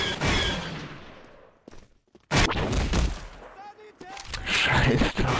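Gunfire in the video game Star Wars Day of Defeat Source, loud sharp blasts and crackling volleys in bursts with a brief lull, while players talk in German over the shooting.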